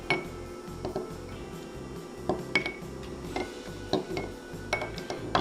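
An egg dipped and swirled in a glass cup of food-coloring dye makes a string of light glassy clinks and taps, close and irregular, with no voices.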